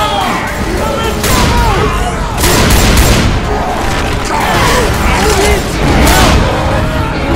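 Dense gunfire in the zombie shooter Left 4 Dead 2, with repeated loud volleys and booming blasts pounding steadily throughout, up close amid chaotic game noise and faint voices.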